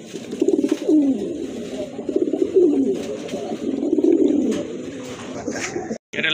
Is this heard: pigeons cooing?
yes